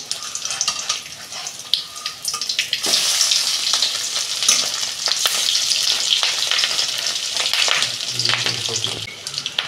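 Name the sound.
fish roe fritters frying in oil, being flipped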